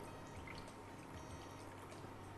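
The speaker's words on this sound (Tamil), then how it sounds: "இன்னும் கொஞ்சம் தண்ணி ஊற்றணும்" Water is poured into thick tamarind water while cooking brinjal, giving a steady, soft splashing pour that runs continuously and fairly quietly throughout.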